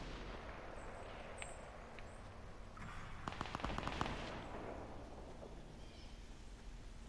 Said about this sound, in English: And I hear shots.